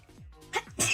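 A person sneezes close by during a live board game session, one short sharp burst at the end that follows a brief breathy intake and some voiced sound.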